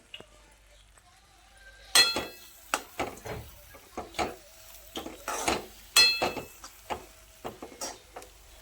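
Fried dry fruits go onto ghee-rich sheera in a pan, with a run of sharp spoon clinks and scrapes against the metal, two louder strikes standing out among steady lighter taps.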